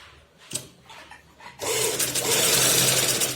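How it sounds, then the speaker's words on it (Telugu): A sewing machine stitching around the neckline of a long frock: a few quiet handling clicks, then the motor starts and runs in a steady, loud, close whir until the end. "నెక్ చుట్టూగా ఇలా చివరి వరకు స్టిచ్ చేసుకోవాలి"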